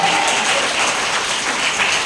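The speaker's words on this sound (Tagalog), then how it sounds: "Grabe yung palakpak niya sa Lord." A church congregation applauds the Lord, with a steady wash of many hands clapping together that fills the room evenly and continues without pause, with no voices over it.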